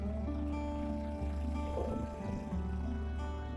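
A small sailboat motors across a bay, its outboard engine droning steadily and close with a constant low hum, with water and wind noise around it and no one talking.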